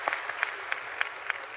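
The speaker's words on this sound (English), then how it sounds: "So let's clap for him again." An audience at a university graduation ceremony claps for a professor, with scattered, moderately loud individual claps over a thin crowd background.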